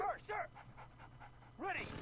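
Attack dogs in the Red Alert 2 Yuri's Revenge strategy game, a quick pair of barks, then panting, then another bark, faint and close together over game audio.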